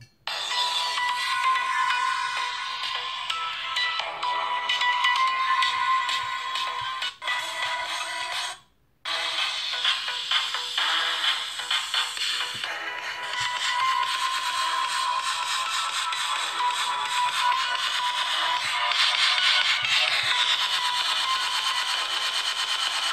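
Music playing loudly and continuously through the small built-in speaker of a Leagoo S8 smartphone, thin and bright with little bass, broken by a brief silent gap partway through before resuming at the same level.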